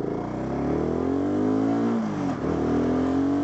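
A BSA Goldstar motorcycle engine pulls hard under acceleration on a UK road, a loud, steady rising drone with one brief dip in pitch as it shifts, then climbs again.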